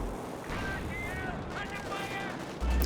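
Mortar fire and other artillery sound through a busy Company of Heroes 2 1v1 battle, with repeated booms and crackling gunfire spread across the clip while a commentator talks over it.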